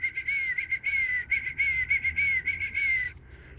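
A person whistles a repeated series of bright, steady high notes in quick rhythmic bursts to call a squirrel outdoors, loud and close for about three seconds with no talking.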